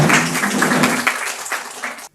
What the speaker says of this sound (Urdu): آپ کی بھرپور تالیوں میں ڈاکٹر خالد اسدی صاحب